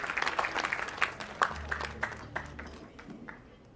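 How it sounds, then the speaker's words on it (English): Audience applause at a pharmaceutical research conference, a burst of many hands clapping that is loud at first and then thins out and fades over a few seconds. "Give a big round of applause for the principal"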